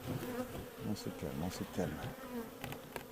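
Bees swarm around an autumn beehive, a dense, continuous buzzing hum with pitch wavering as insects pass nearby, and a voice briefly speaks over it.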